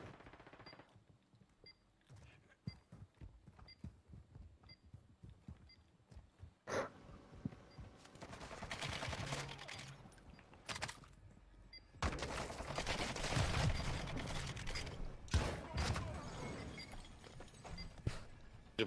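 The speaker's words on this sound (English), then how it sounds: "Oh, I can hear guns." Video game gunfire during a public event: scattered distant shots at first, then sustained automatic bursts swelling into heavy, dense fusillades.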